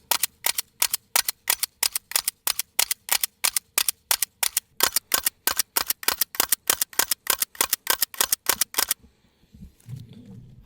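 A Glock A-CUT pistol is struck against a concrete block in a long run of sharp, evenly spaced loud cracks, about forty in quick rhythm. They stop abruptly, leaving quiet rustling and faint handling noise.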